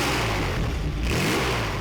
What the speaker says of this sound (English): at the push of a button, the exhaust goes from pleasingly raspy to Asbo unleashed